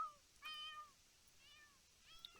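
Cat meows in The Sims 4, three short harmonic mews spaced apart, clear and fairly close over a quiet background with no talk.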